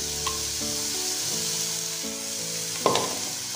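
A medium chopped onion fries in a pan with a few seeds for a low-oil fish masala curry, giving a steady close sizzle with occasional stirring scrapes and one louder clatter near the end, with no talking.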